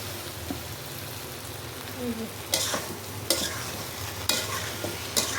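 Taro stolons sautéing in a pan for a shrimp curry, a steady close sizzle with occasional stirring scrapes, no talk.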